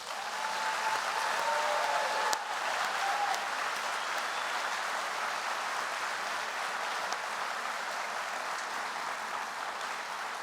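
Sustained audience applause, a dense steady wash of clapping from a large crowd that holds evenly throughout.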